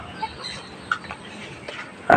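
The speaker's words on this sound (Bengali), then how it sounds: "আর ওই পাশে দেখতে পাচ্ছেন আমার কালো মুরগিটা, আলহামদুলিল্লাহ সুস্থ সবল আছে" Hens in a backyard poultry farm give short, scattered clucks at moderate distance, with one louder, sharper cluck at the very end.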